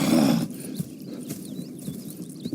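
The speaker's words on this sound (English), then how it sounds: "Go check the horses are ready." Horses in the Red Dead Redemption 2 video game, with a loud burst of snorting or movement at the start, then softer hoof and tack sounds over a steady outdoor ambience.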